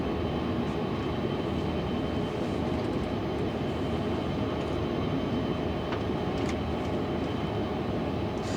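An aircraft flying through bad weather in a radio drama, a dense continuous engine drone and rushing roar filling the scene, steady and loud throughout, with no voices.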